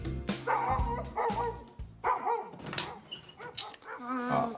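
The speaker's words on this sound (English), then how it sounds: "Dog again." A dog barks repeatedly in quick bursts of several loud barks, with brief pauses between them and a few higher yips toward the end, fairly close.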